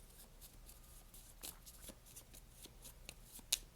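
Oracle cards being shuffled by hand, soft papery riffles and flicks, quiet and close over a faint hum, with one sharper snap near the end.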